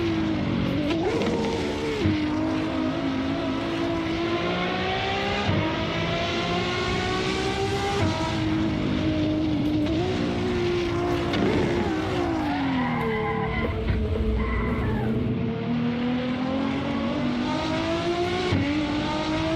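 Race car engine revving hard in Assetto Corsa, a Ford versus Ferrari battle, with loud continuous exhaust roar rising and falling through gear changes and high RPM for the whole stretch, no talk.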